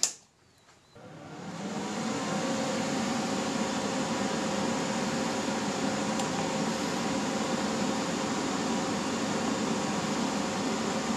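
A Titanium Vulcan TIG welder on 120 volts switches on with a click and its cooling fan spins up into a steady, even whirring hum that continues at close range without any talking.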